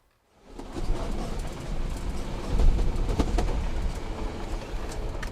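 A train rolls along steadily, a continuous rumble with rhythmic clacks and rattles, starting from silence and holding a fairly loud, even level.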